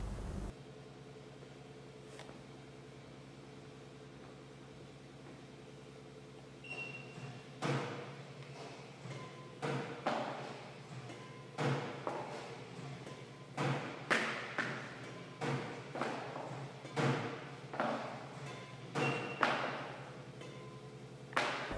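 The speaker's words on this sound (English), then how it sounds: "finally we're going to do a control test, see how effective this racket is at controlling the shuttlecock" A badminton racket strikes a shuttlecock in a control test: after a quiet start come a string of sharp, close taps at a fairly regular rhythm, each with a short ring-out, in an otherwise quiet room.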